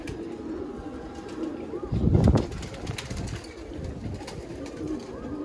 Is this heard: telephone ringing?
no